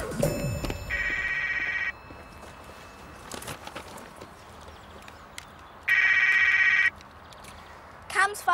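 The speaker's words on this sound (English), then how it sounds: "Cam's phone." A mobile phone rings in two separate bursts, a few seconds apart. Each burst is a bright, steady electronic trill, over a quiet indoor background with faint movement noises.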